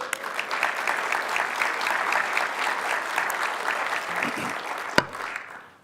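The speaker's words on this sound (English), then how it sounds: "Every time you guys clap, it gives me a chance to grab some water" Steady, dense applause from a crowd during a mayor's state of the city address, sustained for several seconds with one sharp bump near the end before it tapers off.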